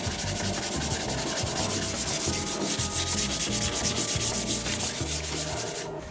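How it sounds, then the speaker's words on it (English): Coarse sandpaper rubs by hand along the sawn edges of an epoxy river table in fast, steady back-and-forth strokes, close and continuous, without talk. "Now we use some coarser grits of sandpaper to sand the saw marks out of the edges."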